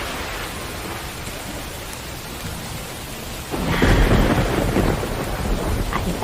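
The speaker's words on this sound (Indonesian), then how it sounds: "coba adik-adik membayangkan hujan, angin, dan petir" A thunderstorm with rain and wind sets in suddenly partway through, with heavy rain and deep rolling thunder rising from a quieter steady hiss. One brief spoken word comes near the start.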